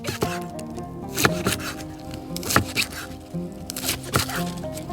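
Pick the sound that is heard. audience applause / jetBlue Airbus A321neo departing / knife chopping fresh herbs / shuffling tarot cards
knife chopping fresh herbs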